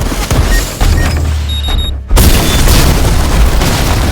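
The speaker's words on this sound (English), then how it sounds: "The blast ripped through the hall and caught the team in its shockwave." A deep explosion booms through a hall and is followed by a sustained roar of debris and rumble. The blast is loud and close, and a brief silence comes just before it.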